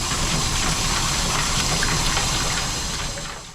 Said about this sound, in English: you could also brush it while you hit it with some water